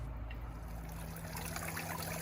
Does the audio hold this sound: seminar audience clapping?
no